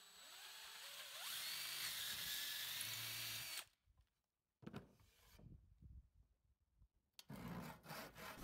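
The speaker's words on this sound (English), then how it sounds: "Lots of sawing, first cutting off the jaw." A saw grinds steadily through material, stops briefly with a few rustles and knocks, then resumes loudly.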